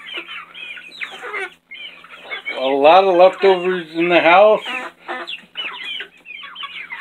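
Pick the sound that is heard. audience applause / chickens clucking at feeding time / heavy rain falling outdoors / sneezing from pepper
chickens clucking at feeding time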